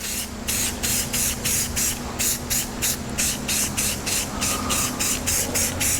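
Spray paint hisses from an aerosol can onto metal flake hot rod parts in a quick series of short, loud, evenly spaced bursts, close by and with no talk.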